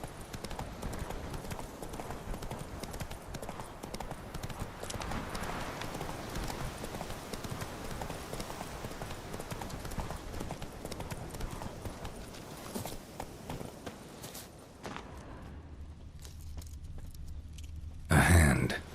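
Horse hooves galloping steadily in The Witcher 3, a continuous close clip-clop rhythm with some ambient wind, easing off near the end before a brief louder burst.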